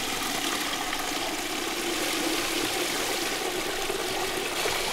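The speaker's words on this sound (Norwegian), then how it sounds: "Da tar man og plasserer bøtta under vannstrømmen og starter stoppeklokken samtidig." Field hydrology measurement: a steady stream of water pours into a bucket outdoors, a continuous broadband rush that stays even and fairly loud throughout, with no talk.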